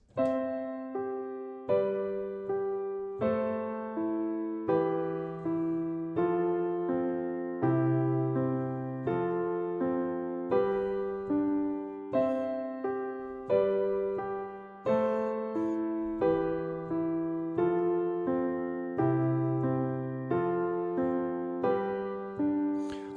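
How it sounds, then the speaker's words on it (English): A piano plays a repeating broken-chord pattern, notes struck one after another in a steady rhythm, clear and close with no talking. "One simple pattern could be playing the top two notes"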